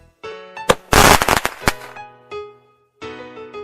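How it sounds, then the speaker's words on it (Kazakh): A loud burst of firework explosions with crackling pops erupts over a background of tonal music, then fades back to the music. "Отшашу."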